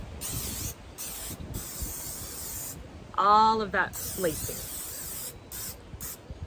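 Several bursts of extra virgin olive oil aerosol spray hiss onto a drum, a couple of short pauses between them, with a brief voice speaking in the middle.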